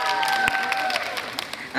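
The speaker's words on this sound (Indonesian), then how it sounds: "Tepuk tangan dong." Brief audience clapping at a morning event celebrating Indonesian women, with scattered claps under a sustained voice or tone, ending abruptly after under two seconds.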